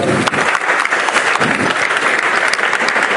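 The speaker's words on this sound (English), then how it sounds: "Can you please give a big round of applause for Prashantji," An event audience gives a big round of applause for a speaker named Prashantji, a dense continuous burst of clapping from a crowd heard throughout the few seconds, with no talk over it.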